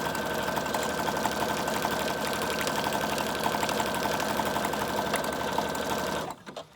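A sewing machine stitches fabric around the edge of a junk journal, a steady rapid mechanical whirring and clatter that runs for about six seconds before stopping abruptly.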